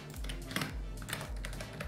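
Quick, fairly soft keystrokes on a computer keyboard as a word is typed, a close, irregular run of light taps.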